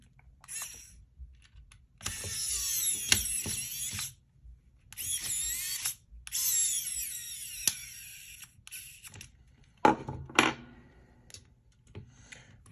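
A screwdriver driving the middle screw into an Xbox One controller during a joystick replacement, with bursts of close, whirring, ratcheting clicks separated by short pauses and a few sharp taps and knocks, no talking.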